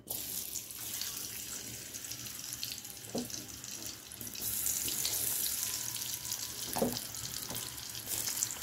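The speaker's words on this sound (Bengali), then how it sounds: "তেলটা গরমে হয়ে গেছে, তো আমি একটা একটা করে ভাজিগুলো দিয়ে দিচ্ছি" Pumpkin pieces fry in hot oil with a steady, bright sizzle that holds throughout and swells louder partway through, close up, with a few soft knocks of the pan and no voices.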